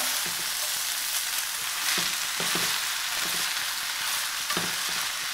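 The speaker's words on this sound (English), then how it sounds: "Now you want everything to mix, so I'm just going to toss them lightly, not overworking them." Flat rice noodles and beef tenderloin tossed in a hot pan for Mongolian tenderloin, a steady close sizzle broken by repeated soft clatters and scrapes as the food is lifted and turned.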